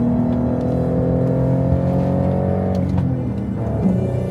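Base Porsche Cayenne with a 3.6-liter VR6 and manual gearbox, heard from inside as a steady droning engine note that eases slightly near the end, with no talk over it.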